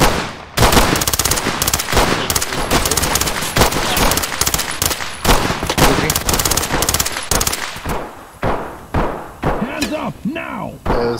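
Dense, rapid automatic gunfire in the tactical shooter Ready or Not, loud and close with nearly continuous bursts for about eight seconds, then sparser single shots and thuds as a voice speaks over the end.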